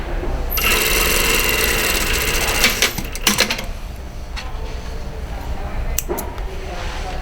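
Sewing machine running in a fast whirring burst while stitching the top edge seam of a one-piece collar, then stopping amid light clicks and handling noises.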